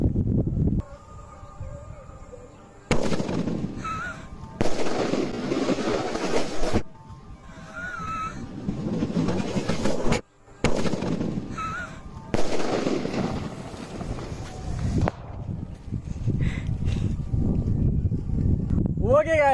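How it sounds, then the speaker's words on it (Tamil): Sky shot fireworks launch and burst with paper flying apart, several sharp loud explosions in separate bursts with brief whistles between them, outdoors with wind noise and people talking in the background. "ஸ்கை ஷாட் ஒரு போகுது, பேப்பர் தனியா போகுது, பேப்பர் உள்ள வெடி தனியா போகுது"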